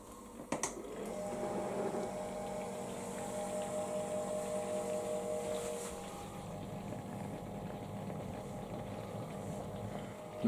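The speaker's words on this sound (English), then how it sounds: "turn the pump on." An electric pump runs in a home brewing setup making a Citra grain-to-glass beer, giving a faint, steady mechanical hum with a slight pulsing whine throughout the quiet stretch.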